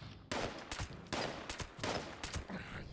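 Loud gunshots from the Fallout 76 video game ring out in a rapid string of about six close, sharp reports with short reverberant tails.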